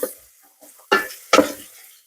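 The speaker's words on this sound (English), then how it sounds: "I'm just going to give that a stir." A few brief scraping clatters from a spoon stirring vegetable soup with parsley in an Instant Pot on saute, two distinct louder strokes standing out against quiet gaps.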